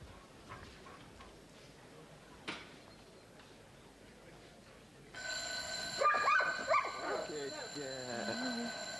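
An alarm clock rings out loudly with rapid, insistent bell tones partway through, after a quiet stretch with a few faint ticks and a short bark-like sound from the hearing dog.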